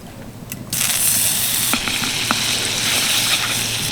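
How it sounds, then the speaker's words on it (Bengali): A spoonful of butter hits a hot wok and bursts into a loud, steady sizzle that holds strongly to the end, with a few faint clicks of a spoon. "এটাকে রেডি করতে হবে তার জন্য কড়াইতে দিয়ে দিচ্ছি এক চামচ বাটার"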